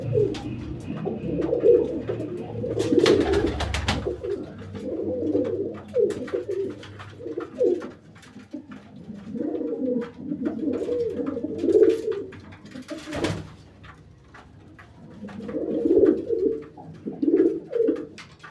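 Breeding pairs of pigeons in a winter loft, soft repeated cooing calls in close bursts with short pauses, plus occasional clattering and wing-flap noises.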